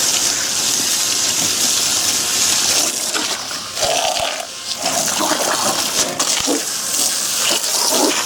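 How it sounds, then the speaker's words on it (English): A garden hose sprays fresh water onto air-conditioner condenser coils, producing a steady, loud hiss and splatter that runs throughout, with brief shifts as the stream moves across the fins. "all I'm doing right now is just using fresh water, just kind of coating the inside of the coils here"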